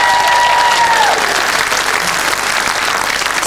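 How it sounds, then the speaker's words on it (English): Studio audience on a TV quiz show breaks into loud, sustained applause, a dense, steady clatter of clapping that fills the whole clip. "Big round of applause for Ian."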